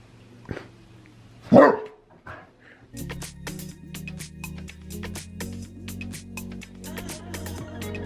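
A dog barks once sharply nearby, followed by a burst of clattering household noise and a steady hum with repeated clicks and knocks.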